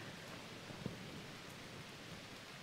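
Steady soft rain falls over a video game community garden, a faint continuous hiss with no voices.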